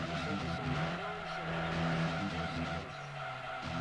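Mazda NB Miata in Gran Turismo 2 on a J-turn license test: tires squeal and skid steadily over a droning engine note that rises and falls as the car slides through the turn.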